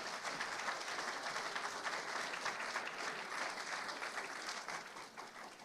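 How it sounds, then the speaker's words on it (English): Audience applause at an athletic hall of fame event honoring student athlete scholarship recipients, a steady dense clapping that holds at a moderate level and tapers slightly at the end. "please give all of our student athlete scholarship recipients another round of applause"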